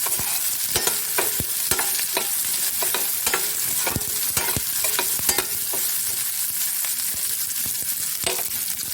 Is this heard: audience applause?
no